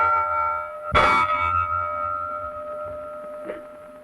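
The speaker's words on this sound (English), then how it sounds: "Three bells." A ship's bell aboard the Titanic in a 1929 film rings with one loud clang followed by a fainter second strike, over a steady tonal hum.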